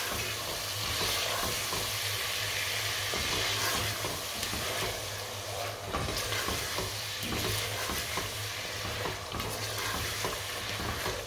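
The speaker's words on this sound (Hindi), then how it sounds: "चने डालेंगे और उनको 3 से 4 मिनट के लिए भून लेंगे" Boiled chickpeas roasting with masala in a pan, stirred steadily: a continuous broadband sizzle with scraping and stirring noises throughout, close and fairly even in level, with no talking.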